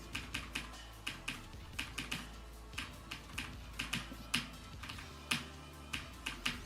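Computer keyboard typing during PC gaming in Roblox Congregation, a faint, steady stream of quick key taps with no speech.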